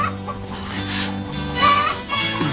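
A chicken clucks and squawks in short agitated bursts over a busy, muffled background.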